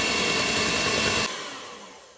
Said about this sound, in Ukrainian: Все це збиваю міксером.